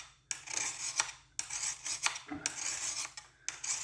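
A metal blade is drawn across a sharpening tool to raise a burr, giving a series of short, close scraping strokes in an uneven rhythm with quiet gaps between them.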